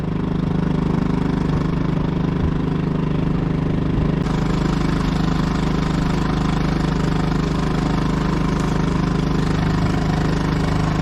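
An outboard motor on a canoe runs at steady speed, a loud, continuous low drone and buzz that stays close and unbroken throughout, with no speech.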